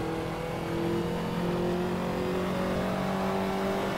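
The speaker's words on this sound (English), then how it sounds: "Pick up the power, there's the boost." Ferrari 288 GTO in the Assetto Corsa racing game, its turbocharged engine droning loud and steady as it pulls hard under boost, with no voices over it.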